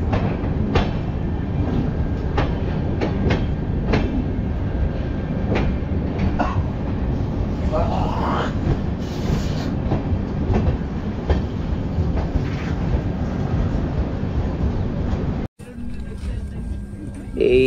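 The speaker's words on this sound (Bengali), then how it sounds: "এই আমরা একটা ট্রেন আসছে।" The Puri Barbil Express rolls through a station, a continuous loud rumble and rhythmic clatter of wagons close by for most of the stretch before it cuts to quieter ambience near the end.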